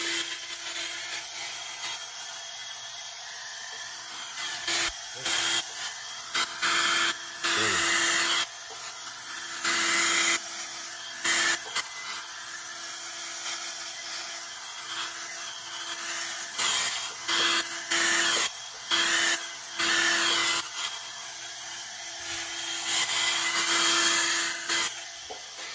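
Air blown in steady, hissy bursts across poured paint for a bloom effect, starting and stopping repeatedly at close range with no talking.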